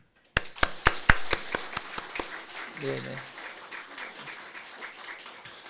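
A church congregation breaks into a burst of sharp, scattered hand claps giving thanks to God, quickly thinning into a softer patter of applause while a voice briefly speaks.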